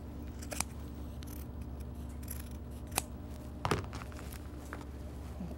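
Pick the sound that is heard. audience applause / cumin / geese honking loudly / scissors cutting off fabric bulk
scissors cutting off fabric bulk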